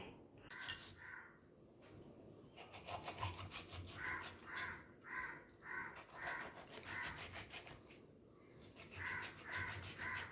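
A knife repeatedly cuts through beef for a Kerala-style beef roast, giving rhythmic rasping strokes in short bursts, close and fairly faint, with no talking.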